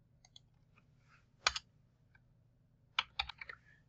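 A computer keyboard clicks in two short, quiet bursts of a few keystrokes each, separated by a pause, as values are typed into 3D printer slicer software.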